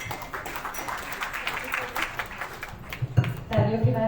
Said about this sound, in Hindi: हमारी सुप्री जी के लिए भी जोरदार ताली होनी चाहिए।